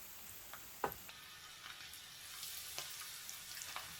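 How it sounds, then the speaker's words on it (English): Breaded shrimps deep fry in oil at 170 degrees over medium heat, giving a faint, steady sizzle and crackle, with a few sharp pops and small clinks near the start. "Let's deep fry the shrimps."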